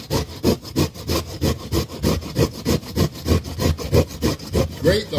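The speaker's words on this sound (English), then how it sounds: "Instead, I'm going to grate it." Whole onion rubbed back and forth on a grater, a steady rhythmic scraping with about two strokes per second, close and fairly loud throughout.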